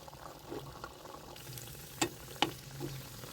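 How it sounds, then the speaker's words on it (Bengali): Spinach puri deep-frying in hot oil, being turned over, with a low bubbling sizzle and two sharp utensil clicks in the middle. "উল্টে পাল্টে একটু লালচে করে ভেজে নিচ্ছি"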